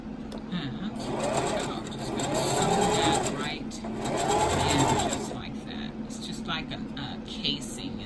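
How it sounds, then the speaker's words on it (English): A sewing machine back-stitches a fabric casing over the nose bridge of a homemade cloth safety mask, running in two steady whirring bursts with short pauses while a person talks over it. "I'm going to back stitch that end part."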